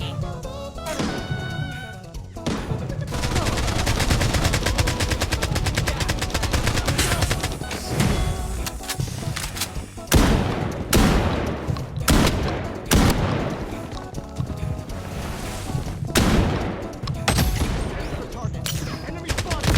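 Rapid gunfire from the mobile shooter game Bloodstrike in a squad fight, shotgun and automatic bursts cracking loudly and continuously over game music and effects, with sharp louder volleys standing out through the second half.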